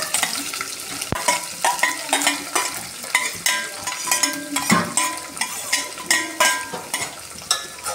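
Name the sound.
sliced onion frying with spices for tomato rice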